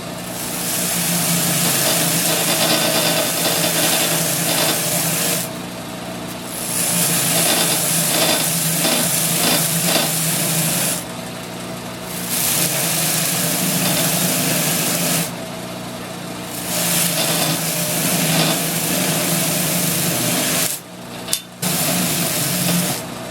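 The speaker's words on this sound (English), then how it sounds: "Over at the sand flea here, we're going to take some of the fuzzies off the edges here and sand these down a little bit." A Sand Flea drum sander smooths the edges of small wooden dragon cutouts, its steady, loud motor whir running on with several brief drops as pieces are lifted away and pressed back.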